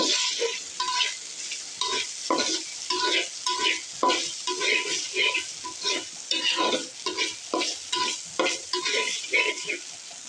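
Washed flattened rice (chira) frying in a pan and being stirred repeatedly, with a steady sizzle and rhythmic scraping strokes close by throughout.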